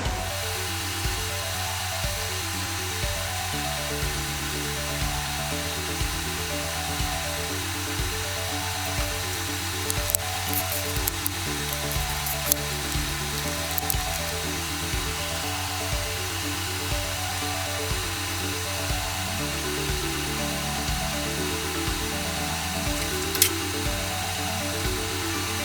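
An electric whisk creams butter and caster sugar for a chocolate and orange cake, giving a steady, unbroken motor whine with a slightly wavering pitch that runs throughout.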